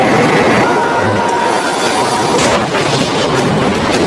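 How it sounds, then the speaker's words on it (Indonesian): Heavy gunfire and artillery-like blasts from a battle scene in the Chinese war film Wolf Warrior, a dense, continuous roar of shots with sharper bursts toward the end, loud and close. "komandan peleton menyuruh anak buahnya menembakkan senjata ke arah tentara komandan Long"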